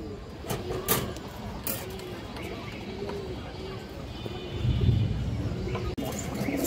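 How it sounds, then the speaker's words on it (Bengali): A female Muslim-breed pigeon of an old bloodline coos in a repeated rising-falling rhythm, close and clear over a steady background hum, with a faint voice in places. "এই যে দেখেন পুরোনো ব্লাড লাইনের একটা মুসলমান মাদি কবুতর আছে"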